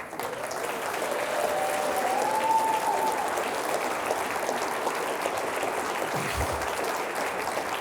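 An indoor university audience at a State of the University address breaks into sustained, steady applause from a large crowd, with a faint whistle briefly rising over the clapping.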